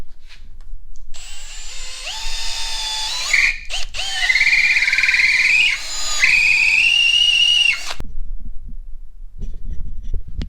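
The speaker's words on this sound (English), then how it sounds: "Sander on a drill." A drill spins a sanding attachment with carbide, opening up a hole in a short throw shifter part, its whine climbing and dipping in pitch through several loud bursts before cutting off into near silence.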